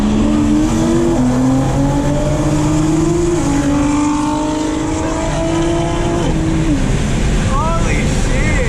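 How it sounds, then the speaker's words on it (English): Cadillac CTS-V with a supercharger accelerating hard, its rising supercharger whine and engine note climbing in steps through gear changes over steady road and wind noise, fairly close and loud. "I hear the whine and the supercharger."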